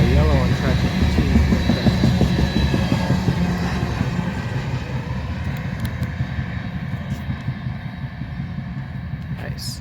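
A train rumbles steadily past on the tracks nearby, a loud continuous roar with rolling wheel and engine noise that slowly fades toward the end.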